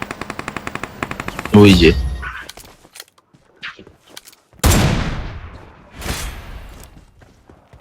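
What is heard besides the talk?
gunfire in a shooting video game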